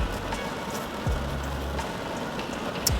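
Steady rain falling outdoors, a constant broadband hiss of drops on surfaces with a low rumble underneath and a few brief tonal bumps, continuous and fairly loud with no speech.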